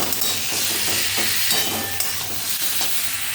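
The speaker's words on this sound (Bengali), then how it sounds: "এবার এর মধ্যে এই ভেজে রাখা পটল আর ডাঁটাটাও দিয়ে দিলাম। দিয়ে ভালো করে মিক্স করে নেব।" Fried pointed gourd and stems are stirred into tomato in a pan, giving a continuous close sizzle with soft, repeated scraping strokes of the spoon and no talking.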